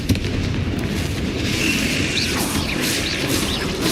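Bombarda and Confringo spell blasts in the Hogwarts Legacy video game, a dense rumbling roar of explosions layered with crackling bursts and ringing effects that fill the whole stretch without pause.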